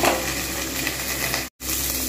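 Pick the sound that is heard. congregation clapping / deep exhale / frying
frying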